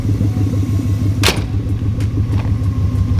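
Low, steady engine rumble of a Lexus LS400 with a notched rear frame on a test drive, with a few short knocks and clicks over the drone.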